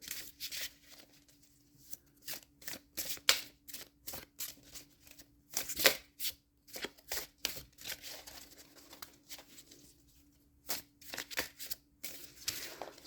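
Oracle cards are shuffled by hand in repeated quick riffling bursts, close and crisp, with short pauses between rounds and no talking.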